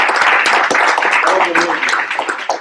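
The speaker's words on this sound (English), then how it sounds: "a round of applause for." An audience at a tech meetup breaks into a dense, continuous round of applause, loud and busy throughout, with voices mingling in the clapping.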